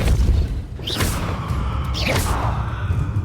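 A Depulso force spell cast in the Nintendo Switch version of Hogwarts Legacy, heard as two whooshing bursts about a second apart, each a sharp rising swish with a low boom beneath, over a steady rumbling game backdrop.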